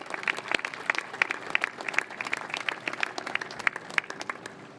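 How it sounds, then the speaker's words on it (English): Sustained applause from a crowd at a US Navy ship christening ceremony for the USNS Sojourner Truth (T-AO 210), with dense, steady clapping that stays fairly even in loudness throughout. "Another round of applause, please."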